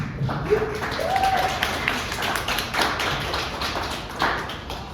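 A round of applause from the audience at a community summit: steady, dense clapping, close and moderately loud, holding for several seconds with a few sharper claps standing out and a brief voice underneath.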